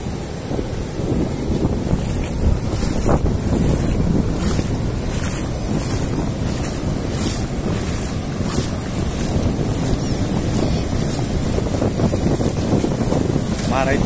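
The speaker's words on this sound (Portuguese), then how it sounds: "olha a força da água chegando aí, pessoal" Heavy storm surf at Praia Grande beach on the São Paulo coast, a constant roar of crashing waves mixed with strong wind buffeting the microphone, with someone talking intermittently over it.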